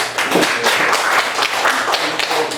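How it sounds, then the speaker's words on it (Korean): A crowd applauds continuously at an academic symposium and small library opening ceremony at the Korean Folk Drama Museum, dense overlapping claps at a steady level throughout, fairly loud and close. "큰 박수 부탁드립니다"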